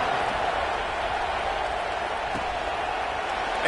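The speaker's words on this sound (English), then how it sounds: "this crowd is buzzing after that last score" A stadium crowd buzzes after a score in College Football 26, Clemson against Boston College: a steady, dense roar of many voices and cheering holds evenly throughout with no pauses.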